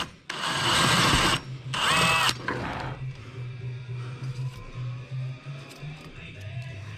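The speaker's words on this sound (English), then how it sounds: "It's like I have the dullest drill bit in the world." A power drill with a dull bit grinds loudly in two long bursts, then its motor drops to a lower, uneven rumble as drilling continues steadily underneath.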